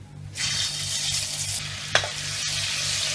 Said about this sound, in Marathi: चांगली अशी तेलावर परतवून घ्यायची